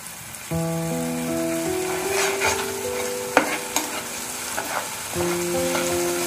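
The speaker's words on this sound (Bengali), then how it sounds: "এইভাবে আমি সামান্য 3-4 মিনিট এটাকে ভাজতে থাকবো।" Ginger, onion and garlic fry with salt in a pan under a continuous hiss and crackle, with occasional spoon knocks, while a sustained musical tone plays through the background.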